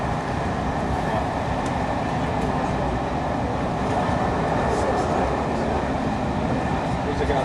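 A class 158 diesel train departs Birmingham New Street, a loud continuous rumble and rolling noise heard from on board without letup.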